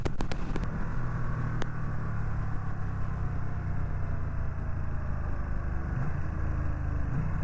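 A Ducati Streetfighter V2 motorcycle being ridden, its engine a steady, loud, low droning roar with shifting pitch and a few sharp crackling pops near the start, continuous throughout with wind noise.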